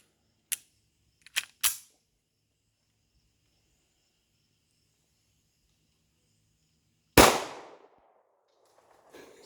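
Kel-Tec P11 pistol, a discontinued polymer-framed handgun, fired outdoors: three sharp reports in quick succession, a long silence, then one more loud shot with a ringing tail.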